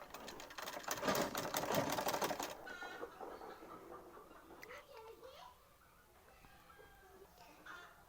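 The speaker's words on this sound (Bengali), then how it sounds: "এর উপরে একটা করে চাপ সেলাই দিয়ে দেব" Sewing machine top-stitching fabric along a folded edge while attaching piping to a pyjama waistband, a fast rapid stitching burst for about two and a half seconds up front, then quieter handling with faint voices.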